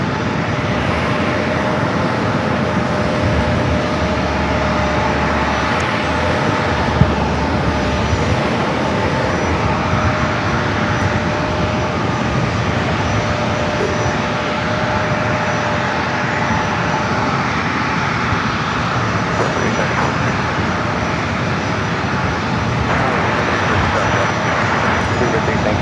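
A Delta Airbus A321 airliner arriving at San Diego airport makes a steady, loud, broad jet roar that holds for the whole span without fading, with no clear voices over it.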